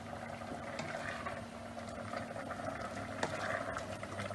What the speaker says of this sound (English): It's bubbling away quite ferociously.